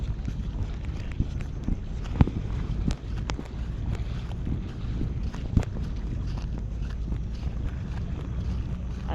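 Outboard-powered tour boat running across open sea during an island-hopping trip in Honda Bay, Palawan, a steady broadband engine and water rush with wind buffeting the microphone throughout, a few sharper knocks from the hull.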